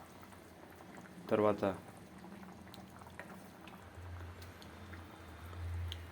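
Mixed vegetable masala curry with pods and seeds simmering in a pot, giving a faint low bubbling under a person's speech, with a brief louder clatter early on.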